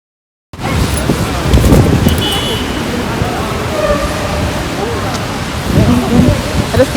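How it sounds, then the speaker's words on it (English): Heavy city rain pours steadily with a deep rumbling undertone like thunder, loud and close throughout, mixed with faint traffic noise after a brief silent start. "and it's raining"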